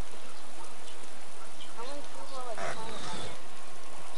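Rain falls steadily in the DayZ Standalone survival game, a dense even hiss with a few brief tonal game sounds layered on top and no talking.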